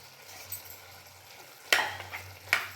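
Roasted ground sabji powder is stirred into cooked mixed vegetables in a pan, with two sharp scraping clanks of the spoon against the vessel over a faint low hum, no voices.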